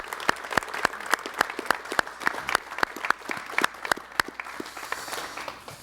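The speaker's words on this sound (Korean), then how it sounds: "여러분 박수 부탁드립니다" Audience applause in a television studio after a wedding congratulation, a crowd clapping steadily with distinct sharp individual claps standing out, continuous through the clip.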